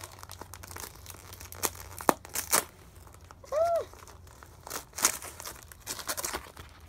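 Wrapping paper being ripped open on a Christmas present, with a few sharp tearing and crinkling bursts scattered between quiet pauses, close by and fairly soft.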